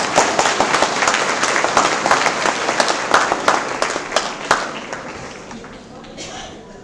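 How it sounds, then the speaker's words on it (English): Audience applause for dignitaries being felicitated at an academic block inauguration, a dense round of clapping with sharp individual claps standing out, steady then thinning toward the end. "Please give them a big hand of applause."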